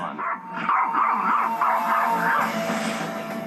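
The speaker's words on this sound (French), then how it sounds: "son chien n'arrête pas d'aboyer alors que la scène est juste derrière" A dog barks and yips repeatedly in quick, excited bursts just behind a stage, fairly close and loud, with a steady background hum.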